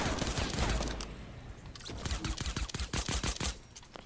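Rapid bursts of gunfire in the Fortnite battle royale video game, a dense volley of sharp shots clustered in quick rhythm, loud and close, following a low rumbling blast at the start.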